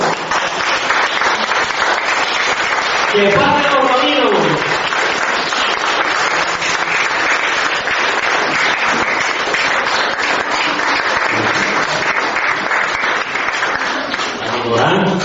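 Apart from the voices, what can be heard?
congregation applauding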